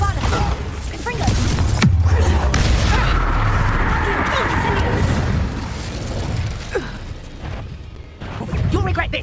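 Spell combat in Hogwarts Legacy with a Confringo explosive spell, heavy booms and crashing impacts over a sustained rumbling roar lasting several seconds, loud and close, with character voices shouting amid the blasts.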